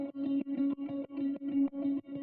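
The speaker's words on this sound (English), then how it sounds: "Last but not least, we had a bit of a phaser, which in my case is just a phase mistress from Sound Toys" Guitar through a PhaseMistress phaser in an 80s/70s disco-pop beat, playing a repeated chord stab pattern with steady, evenly spaced rhythmic pulses, swirling and moderately quiet, with no one talking.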